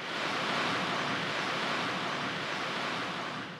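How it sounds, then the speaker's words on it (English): Strong wind blowing steadily in Weatherford, Oklahoma, a small windy town ringed by wind turbines, heard as a loud, continuous broadband rush with no breaks or voices. "we soon found out it's always windy in Weatherford"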